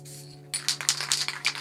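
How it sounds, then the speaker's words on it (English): A can of Dope Supreme spray paint lets out a series of short, sharp hissing bursts, close and fairly loud, over a constant low electrical hum. "I'm just going to spray to let some of the paint through"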